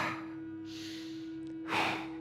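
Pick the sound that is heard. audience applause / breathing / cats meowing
breathing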